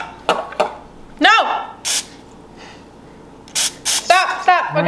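Short hissing bursts of baking spray coating a gingerbread cookie mold, heard several times close by between people talking.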